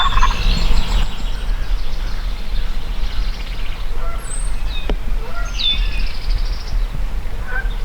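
Wild turkeys gobble during a spring turkey hunt while a gobbler breeds a hen. Several sharp gobbles ring out over steady loud wind or rumbling noise outdoors.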